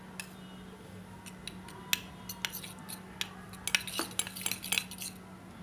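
A spoon mixing aloe vera gel with Colgate toothpaste in a small dish, giving sharp irregular clinks and scrapes that grow busier toward the end over a faint steady hum.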